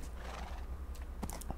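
A horse neighs in Minecraft, a short whinny that rises over steady clip-clop hoofbeats and a low ambient hum, fairly close and alone with no talking.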